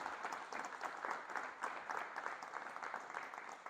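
A church congregation applauds steadily for a few seconds during a Spanish-language sermon on the Resurrection. The clapping is a dense, even wash from many hands at moderate distance, with no voices over it.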